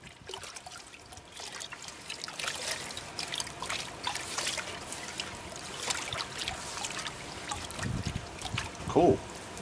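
Water sloshing and trickling in a gold pan while panning quartz-rich material for gold in the Leonora area of Australia, a steady wet swirl with splashy bursts and a sharper slosh near the end.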